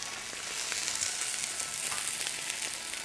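Mushrooms searing in a hot sauté pan, a steady bright sizzle and crackle close by, with occasional stirring and no talking.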